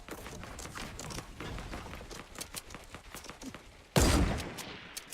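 SCAR rifle fire in Fortnite, a scattered series of faint, distant cracking shots followed by a sudden louder burst of noise near the end.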